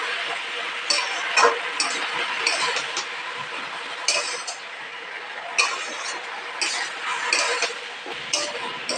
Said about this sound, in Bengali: ভালো করে নাড়াচাড়া করতে হবে।